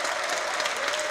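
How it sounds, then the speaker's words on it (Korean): Dense, steady clapping from a large audience fills the space, a continuous wash of applause with no voices standing out. "관객들에게 뜨거운 박수를 받았습니다"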